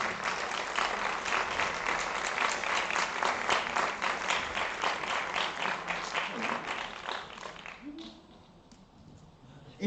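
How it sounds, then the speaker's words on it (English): Sustained applause from an audience at an educational theatre event, steady and dense for about eight seconds before thinning out, with a voice starting to speak as it fades. "Please, a big applause."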